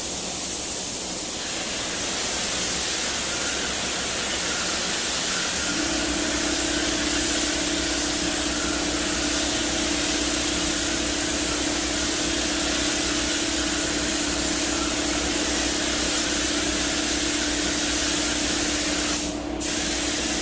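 Spray gun hissing sealer onto a 2016 Honda Odyssey fender during front end repair, a loud continuous airy spray, close and steady, with a compressor hum joining partway through.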